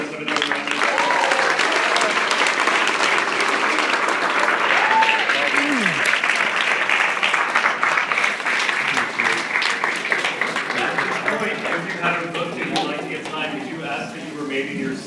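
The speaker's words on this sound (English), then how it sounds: "Let's have another round of applause." An audience at a Carly Simon book event at Barnes and Noble applauds, giving sustained, dense clapping close by that tapers slightly toward the end, with faint voices mixed in.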